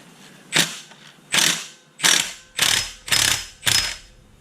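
A ratchet wrench loosens a nut on a 2025 Can-Am Outlander 1000R, six distinct bursts of ratcheting clicks in a steady rhythm, close and clear with no talk.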